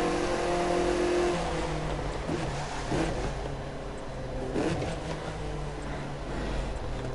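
An Audi's engine roars and revs in The Crew 2 racing game, a loud sustained drone with shifting pitch and a few brief bumps, no talking over it.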